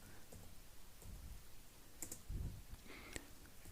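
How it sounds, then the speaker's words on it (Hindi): Soft keystrokes on a computer keyboard, a few scattered taps and presses including the space bar, fairly quiet and close, with no voice over them. "तो यहाँ पर जैसे ही मैं स्पेस बार प्रेस करता हूँ"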